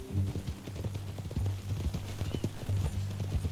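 Horse hooves clip-clop steadily at a walking pace in Red Dead Redemption 2, close and moderately loud over a low steady hum, with no talk.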